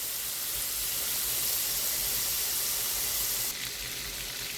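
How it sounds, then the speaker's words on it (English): Three cube steaks brown in a hot pan, giving a steady, close sizzle and hiss with no pauses, which drops slightly in level near the end. "So now we're just letting it cook, browning on both sides."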